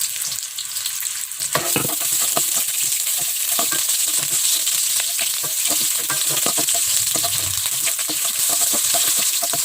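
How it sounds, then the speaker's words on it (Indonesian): Onion sautés in three tablespoons of vegetable oil with a loud, continuous crackling sizzle. Close, occasional taps and stirring clatter punctuate the dense frying hiss throughout. "Lalu kita tumis bawang bombay."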